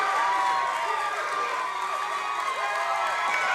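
Spectators at a professional wrestling show cheer and shout throughout, a dense, steady roar of voices with higher-pitched yells rising over it.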